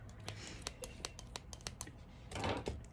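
A pair of scissors snips in a quick series of crisp, faint clicks close by, with a slightly longer rustling cut near the end.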